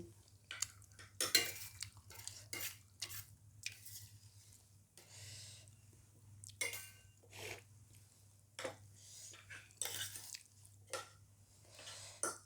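Chicken wings being stir-fried with spring onion in a pan, heard as scattered scraping and clattering utensil strokes over a low steady hum, moderately close, with no talking.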